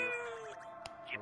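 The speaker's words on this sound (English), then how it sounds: "This is my cat." A pet cat meows once close to the microphone, a short tonal cry that bends downward, with a brief click and another faint mew near the end; there is no talking over it.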